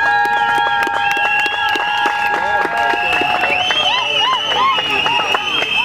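Wedding guests applaud and cheer through the whole stretch, a dense crowd roar layered with high, wavering voices that sound like ululation or singing.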